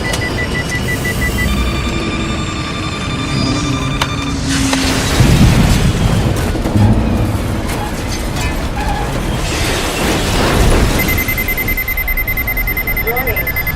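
Radio drama sound effect of a spaceship crash landing with no retro rockets: steady electronic alarm beeps and buzzers over a dense rumbling roar, with heavy impacts and bursts of noise swelling and fading in sequence.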